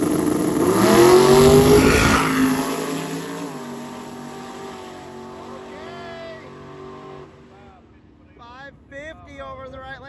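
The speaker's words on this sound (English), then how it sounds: "We got the Patina 66 Chevelle. We got that El Camino with the big old turbo in the grill." At a street drag race, a patina 1966 Chevelle and a big-turbo El Camino launch with a loud, close roar of revving engines that fades quickly into distant engine noise, followed by a voice talking.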